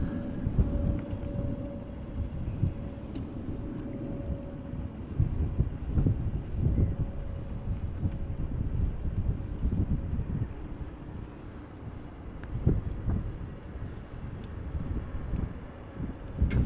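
Breezy wind at Amsterdam Schiphol Airport rumbles steadily against the microphone, a low, constant buffeting roar with occasional gusts and faint distant hum, no voices.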